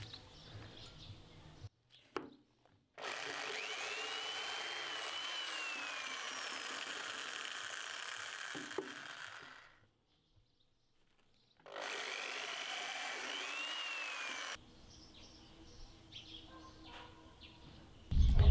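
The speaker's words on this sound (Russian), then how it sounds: "Поэтому сейчас мы будем просверливать здесь отверстие." An electric drill bores a pilot hole into a wooden slat while a bee-holding box is built, giving two sustained whirring bursts of a few seconds each with a quiet pause between them, close and fairly loud.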